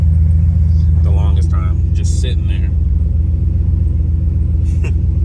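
A truck engine idles with a steady low rumble that runs the whole time, loud and close, while someone speaks briefly over it.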